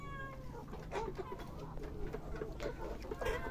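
Several chickens cluck and peck close by in short, irregular bursts, with a faint cat-like call at times and soft rustling.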